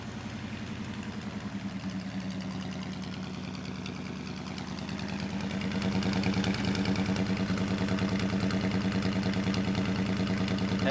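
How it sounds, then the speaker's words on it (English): A 1949 Ford F1 pickup's engine idles steadily with a low, rumbling exhaust note, growing slightly louder and fuller partway through, heard close up with no talking. "Has a nice exhaust note"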